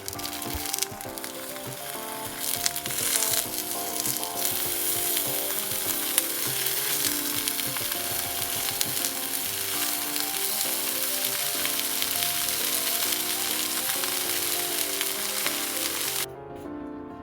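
Tofu deep-frying in a pan of hot oil gives a dense, steady sizzle and crackle that runs loud and unbroken for about sixteen seconds, then cuts off abruptly near the end, with no voices.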